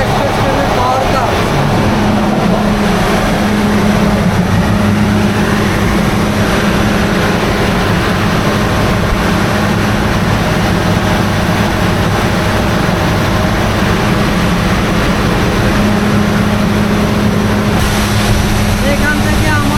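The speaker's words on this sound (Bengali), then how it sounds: "এটা হচ্ছে পর্যটক এক্সপ্রেস ট্রেনের পাওয়ার কার।" The generator in the Parjatak Express power car runs with a loud, constant, heavy engine roar and a low steady hum that fills the space without pause.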